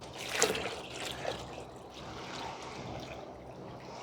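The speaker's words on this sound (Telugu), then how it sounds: "సో మిగిలిన నీళ్ళు పోసేస్తాను ఇందులో." Water splashes and trickles into a container holding about 10 litres of water, a short burst of pouring at the start that fades into a low steady wash.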